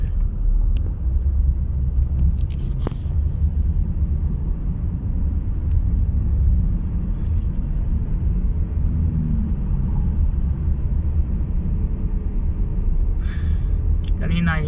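Heavy road traffic at an expressway exit is heard from inside a car as a steady, loud low rumble of engines and tyres. A few brief clicks and rattles cut through, and a voice speaks near the end.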